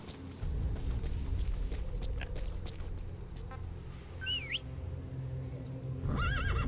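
A horse whinnies in Metal Gear Solid V, a shrill, wavering neigh rising and falling twice over a low, steady rumble of game background sound, with a second brief whinny near the end.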